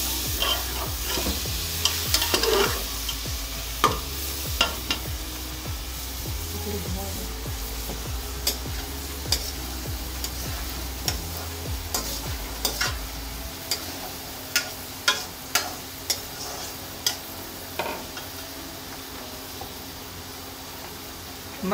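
Mutton mince with turmeric and crushed coriander is stirred and fried in a pan, a steady close sizzle running throughout while a spoon scrapes and taps the metal in a quick, irregular series of clicks.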